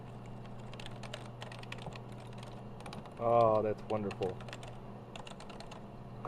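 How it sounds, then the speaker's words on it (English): Rapid key clicks on a TRS-80 computer keyboard under repair, a dense patter running throughout with a steady hum, while a person speaks briefly in the middle. "the keyboard's working."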